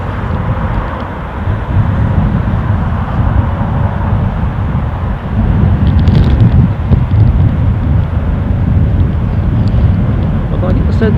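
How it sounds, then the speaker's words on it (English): Steady wind rushing outdoors at Newcastle International airport, a continuous low buffeting roar that swells slightly partway through, with a voice talking over it. "But I get the sense the wind's picking up"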